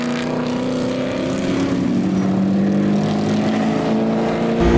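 BMW touring race cars racing on track during a QTCC race, a loud, steady, close engine roar whose pitch rises and falls as the cars accelerate, with no talking.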